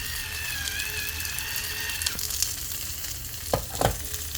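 Salmon fillet seasoned with pepper frying in a pan, a steady close sizzle with a few sharper crackles and clinks near the end.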